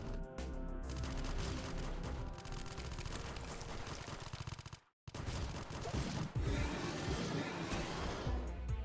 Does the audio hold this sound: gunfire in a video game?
yes